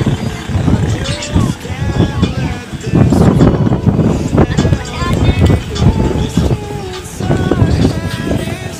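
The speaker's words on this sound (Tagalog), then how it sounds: "ang hangin, grabe" Strong wind on a cold, foggy mountain buffets the microphone in loud, uneven gusts, with voices and background music underneath.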